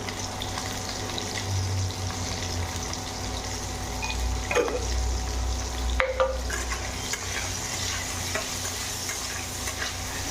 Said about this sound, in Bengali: তেলের মধ্যে ভেজে নেবো আমি নুন দিয়ে।